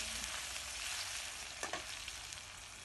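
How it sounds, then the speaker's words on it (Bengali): Chopped onions with bay leaves fry in hot oil in a wok, giving a steady, fairly quiet sizzle and crackle with a few light stirring scrapes. "এগুলো এখন লাল করে ভেজে নেব।"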